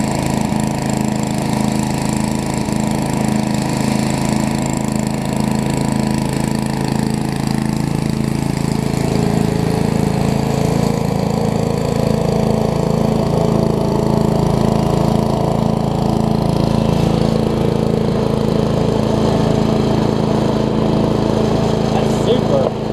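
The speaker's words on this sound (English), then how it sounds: "That is a lot quieter than a lot of chippers that I have." A Troy Bilt Tomahawk (Gardenway) wood chipper, a curb find needing a carburetor cleaning, runs with a steady, fairly loud small-engine drone that holds an even idle throughout with no load changes.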